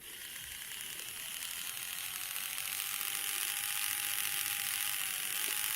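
A Plarail T-26 toy train's small motor runs steadily with a grindy, ratcheting whir and a wobbly wheel, fairly loud and close, holding constant throughout with no talk.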